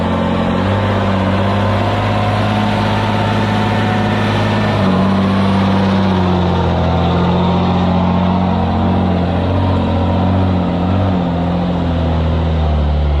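A dump truck climbs a grassy hill in a low hill-climbing gear, its heavy diesel engine droning loud and steady throughout with a low rumbling tone that shifts slightly partway through.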